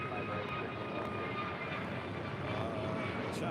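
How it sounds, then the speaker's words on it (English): An Alaska Airlines Airbus A321neo jet takes off at LAX with a steady, broad engine roar. The sound is moderately distant and even throughout, with no clear talk over it. "Next south side departure, Alaska Airlines Flight 310 heading to Washington Dulles, A321neo"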